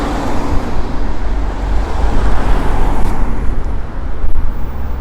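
A delivery car for a Thai restaurant and spa rolls past on a narrow residential lane in Odessa, a loud broadband rumble of tires and engine with steady street traffic noise throughout.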